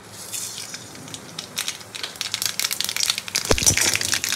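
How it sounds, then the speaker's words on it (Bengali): Mustard seeds and dried red chillies hit hot oil and splutter close by, a sparse crackle that grows into dense, rapid popping and sizzling over a few seconds, with no voices. "তেলটা গরম হয়ে গেলে সর্ষে আর শুকনো লঙ্কা ফোড়ন দিয়ে দেবো।"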